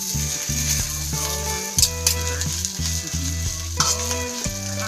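Fried rice stir-fried in a pan, with a steady loud sizzle and repeated scraping, clattering strokes of the spatula against the metal, close up and without talk.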